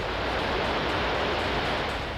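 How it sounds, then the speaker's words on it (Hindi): Steady, loud rushing roar of water pouring out through ten open gates of the Kadana dam, a continuous broadband wash with no pauses and no voices. "कंदारा बांध से लगातार पानी छोड़ा जा रहा है।"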